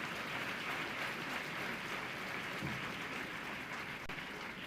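Steady applause from a festival audience at a university celebration in Haridwar, a dense, even crowd clapping that holds the whole time without a break.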